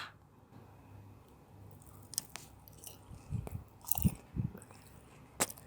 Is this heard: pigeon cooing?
no